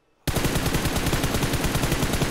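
Rapid automatic gunfire in the video game PUBG, a loud, dense stream of shots that bursts in abruptly after a brief silence and keeps firing without pause.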